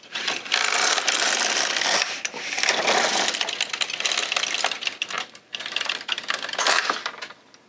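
An LK150 knitting machine carriage slides across the needle bed for two rows, a loud, close, continuous mechanical clatter and rattle in two long passes with a brief pause between.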